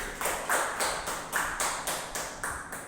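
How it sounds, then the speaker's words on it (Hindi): Rhythmic group clapping at a business seminar of a hundred or more people: loud, evenly spaced unison claps about twice a second, steady throughout with no voices. "जोरदार तालियों से इस अवसर का स्वागत कीजिए।"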